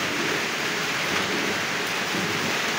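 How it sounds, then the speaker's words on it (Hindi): Steady rain falls on a rainy day at a cow milking spot, a dense, even hiss of drops with no gaps, fairly close and loud throughout, no voices heard. "देखो बारिश गिर रही,"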